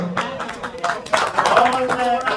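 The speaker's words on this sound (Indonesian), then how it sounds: "Tepuk tangan dulu." A crowd at a religious lecture claps in scattered bursts, hands striking irregularly while a voice carries on over the top.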